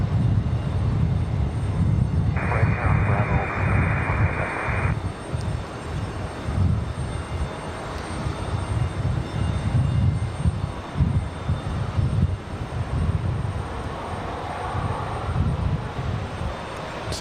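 Alaska Airlines Boeing 737-900 jet at Raleigh-Durham airport, a rumbling engine drone with a strong low end that swells and eases unevenly throughout, with a brief steady tone standing out early on and no speech.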